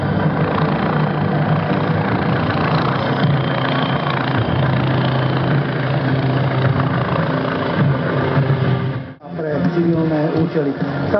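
A helicopter with an Allison 250 C20 turboshaft engine runs at an airshow with a loud, continuous turbine whine and rotor roar. It drops out briefly near the end, then resumes.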